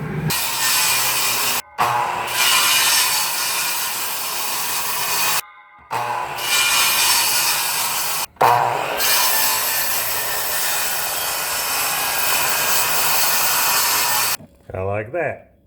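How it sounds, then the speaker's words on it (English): Power saw making a series of cuts through pine timber for a rustic bench, a loud sustained buzzing roar broken by several short pauses between passes, ending with a brief clatter. "We'll just go through here, make a bunch of cuts."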